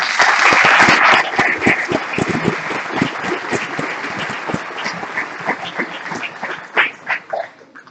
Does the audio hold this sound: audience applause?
yes